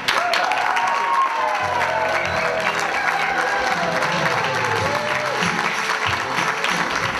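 An audience at an improv theatre show applauds continuously as a performer comes on stage, dense clapping mixed with a few cheers over entrance music.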